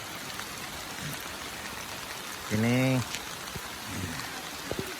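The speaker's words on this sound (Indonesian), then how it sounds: "Dan ini hujannya lumayan lebat." Heavy rain pours down on a misty forest road, a steady dense hiss filling the whole stretch, with a brief voice and a short tonal burst partway through.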